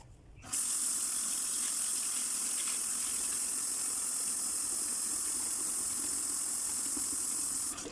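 Water pours steadily from a tap onto rinsed red beans for soaking, a continuous close rushing hiss that starts abruptly and runs unbroken to the end.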